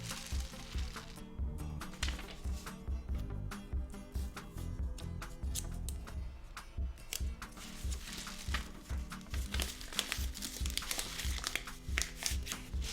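Paper and tape crinkle and tear loudly up close while the open end of a rice-filled paper tube rain stick is sealed, with dense irregular crackles and rustles running continuously for several seconds.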